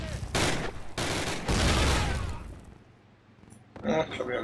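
Automatic machine gun fire in a Call of Duty village fight, two loud sustained bursts separated by a brief pause, trailing off into quieter background with a faint clatter at the end.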